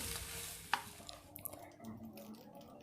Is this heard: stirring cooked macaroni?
yes